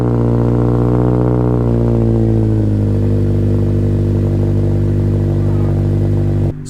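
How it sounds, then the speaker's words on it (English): A 7th-generation Honda Accord coupe idling on a cold start with no muffler, a loud, steady, throaty engine drone with a strong low rumble, holding its pitch throughout and cutting off abruptly at the end. "Here's a cold start."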